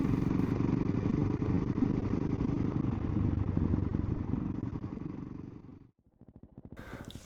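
A 2025 Caballero 500 Rally motorcycle with a Minarelli engine runs close by with a steady, loud rumble, then drops off sharply near the end before faintly picking up again.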